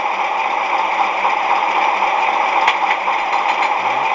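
A model train engine idle sound effect runs steadily in a low, even rumble with faint clatter, unchanging throughout, with no voices.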